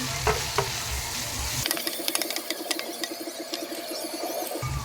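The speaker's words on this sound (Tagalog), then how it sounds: "haluin lang natin" Tofu sisig with liquid seasoning stirred in a hot pan: rapid metallic scraping and clicking of a spatula over a bright continuous sizzle, close and fairly loud, preceded by a brief lower rumble.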